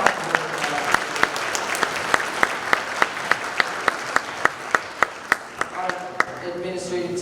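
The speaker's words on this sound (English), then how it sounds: "Give Denise a round of applause." Audience applause at a school winter band concert honoring an administrator, a steady roomful of clapping with sharp individual claps standing out over the wash, sustained throughout with faint voices mixed in.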